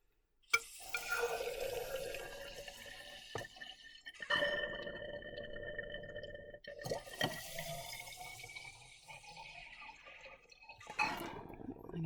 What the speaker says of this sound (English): We're going to put that into the conical flask along with 40 centimetres cubed of water.